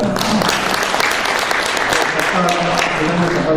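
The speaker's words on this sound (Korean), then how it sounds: "큰 박수 부탁드립니다" An audience claps loudly at an award ceremony during an international fire investigation conference, a dense, continuous burst of applause filling the room, with a voice speaking over it.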